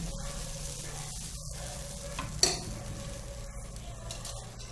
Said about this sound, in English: Take a ladle of batter. Spread it on the tawa, dosa pan.